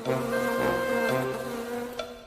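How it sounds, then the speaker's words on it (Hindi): A swarm of flies buzzes over a heap of garbage, a steady, droning hum that wavers slightly in pitch and stays fairly loud throughout, with no voices. "इन सब पर भिनभिनाते मक्खियों के झुंड"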